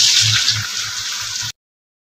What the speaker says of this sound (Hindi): आप यहाँ पर थोड़ा सा पानी ऐड कर